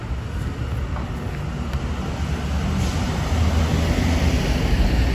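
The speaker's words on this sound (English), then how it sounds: "it is a bit windy, so maybe that's why I sound different" Strong wind buffets an outdoor microphone on a New York City street, a continuous low rumbling roar that swells a little louder toward the end, with no voices over it.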